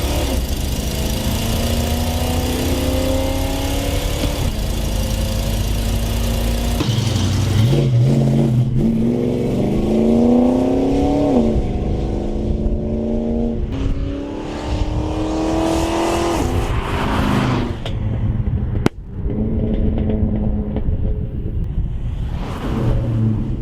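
A Dodge Dart's engine idles loud and close, then revs repeatedly in rising and falling bursts over a rough rumble, with a sharp knock near the end.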